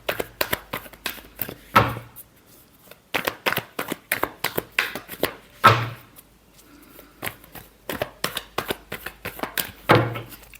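Tarot cards are shuffled by hand close up in quick rhythmic bursts of crisp flicking riffles, each run ending in a soft thud as the deck is squared, repeated several times with no talk.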